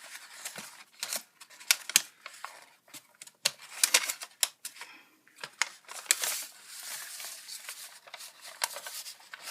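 Paper is creased and folded flat while an origami hydrangea by Shuzo Fujimoto is being made. Close, crisp crackles and taps come in irregular clusters, soft overall, with no voices.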